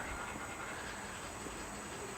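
An O scale model train runs on the New York Society of Model Engineers club layout, passing a circus train, with a steady low rumble and hiss under a constant high whine.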